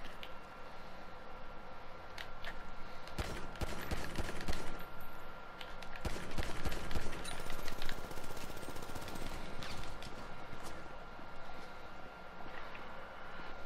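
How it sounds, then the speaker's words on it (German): Gunfire inside a national bank in the video game GTA V Online: faint, distant bursts of rapid shots in several clusters over a quiet background. "Wir haben Schüsse in der Nationalbank."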